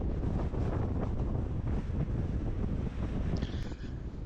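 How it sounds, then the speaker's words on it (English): Strong wind on a mountain ridge roars and buffets the microphone in low, gusty rumbles, continuous throughout with no voices. "It's a bit too windy here as we're walking along this ridge."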